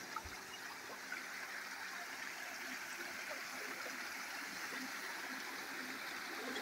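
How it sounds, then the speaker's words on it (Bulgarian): A small river stream flows steadily with a continuous broad rush of water and fine trickling detail, even and unbroken throughout with no voices. "Върнахме се отново на рекичката."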